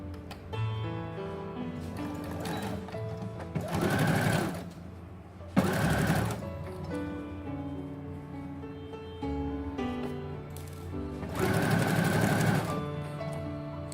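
A sewing machine whirs in three separate bursts while a multipurpose zippered pouch is being stitched, each run loud and close with quieter tonal sound in the pauses.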